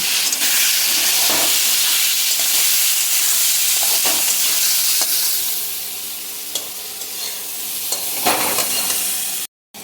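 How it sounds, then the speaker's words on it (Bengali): Boiled potatoes with salt and turmeric frying in oil, a loud hissing sizzle that eases partway through, with occasional stirring clicks before a short cut-off. "আলুটা ভেজে নেব এই তেলে"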